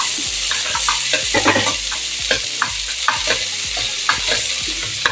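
Small shallots sizzle in a pan for a Tamil-style mutton curry, stirred with a busy run of close scraping and clattering spoon strokes over a constant hiss. No one speaks.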